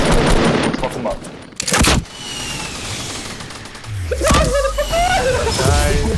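Bursts of loud, close gunfire in Fortnite, rapid shots mixed with sliding movement and game effects, while players talk over the action.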